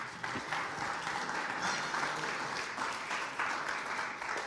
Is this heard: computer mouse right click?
no